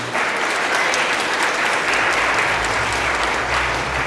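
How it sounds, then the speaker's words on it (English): Audience at a spring choir concert applauding the collaborative pianist, dense even clapping that fills the whole stretch, with a low hum coming in partway through. "Please give a round of applause for Laurie."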